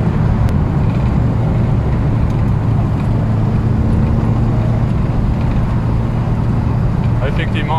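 Volkswagen Golf 1 GTI driving over a rough, potholed road, a steady loud engine and road rumble with low drone throughout, with voices talking over it.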